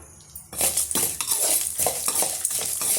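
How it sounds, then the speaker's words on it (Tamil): Garlic cloves, still in their skins, are stirred in a pan for urad dal chutney, with a steady run of metal spoon scrapes and clinks against the pan, close and fairly loud, and no one talking. "சேர்த்துட்டு ஒரு நிமிஷத்துக்கு நல்லா வந்து வதக்கி விட்டுடலாம்"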